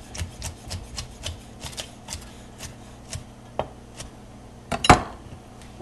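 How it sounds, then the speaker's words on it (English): Top round beef being julienned with a knife on a cutting board, a steady series of crisp, evenly spaced chopping taps close up, ending in a louder scraping clatter. "What we're going to do is we're going to julienne that."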